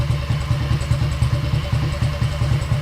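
A 1960 BSA Gold Star single-cylinder motorcycle idles up close, its loud, steady thumping beat pulsing evenly with a clattery mechanical undertone and no talk.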